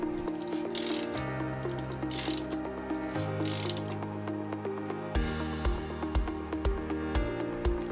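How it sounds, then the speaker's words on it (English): An LS engine crankshaft is turned by hand with a ratchet, giving a steady run of close mechanical clicking and pawl ticks with faint whirring, over two full revolutions. "I turn the crank manually 2 full revolutions just to sanity check that the timing marks line up"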